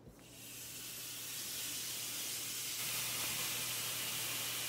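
Hanger steak searing in hot oil in a preheated pan over moderate heat, a steady broadband sizzle that swells right after the meat goes in and holds loud and close, with a low hum underneath and no talk.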